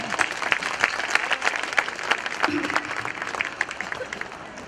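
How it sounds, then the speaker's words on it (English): Audience applause at a concert for the performers of the Parivartan Ek Yatra programme, steady dense clapping across the whole stretch with a faint voice underneath. "So big applause to all the performers."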